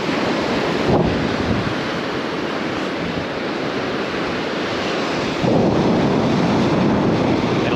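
Loud, continuous surf on an Outer Banks beach, waves rushing and breaking with a heavy roar and wind buffeting the microphone, swelling again near the end, with no voices.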